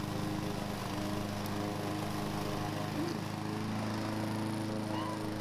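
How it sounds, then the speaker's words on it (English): A lawn mower engine drones steadily for the whole stretch, a loud, even hum with no breaks and no voices. "Or even while mowing the lawn."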